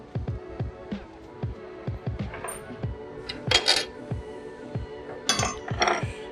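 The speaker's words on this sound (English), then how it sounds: "First we will remove these bolts." Bolts being removed with a 5mm Allen key on a KTM 390 Adventure motorcycle, heard as a run of sharp metallic clicks and ratcheting ticks, close and fairly even, with a few brighter clinks of parts and spacers near the end.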